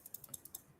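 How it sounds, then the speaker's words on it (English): Quiet keyboard typing, about half a dozen light, crisp clicks in an uneven rhythm, close by and soft, with no voices. "That clicking sound"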